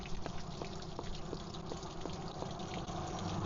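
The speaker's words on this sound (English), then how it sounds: "you unscrew it from your water heater to drain out the water" Water draining out of a six-gallon water heater on an Aliner Ranger 12 camper, a continuous gushing flow heard close by over steady road noise, with no talk.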